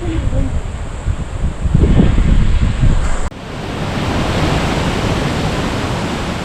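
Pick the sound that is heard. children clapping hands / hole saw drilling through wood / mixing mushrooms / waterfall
waterfall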